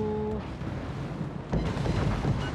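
A ship blows up in the naval combat game World of Warships: a sudden deep, booming burst that swells over steady battle rumble and carries on as a loud, rolling roar.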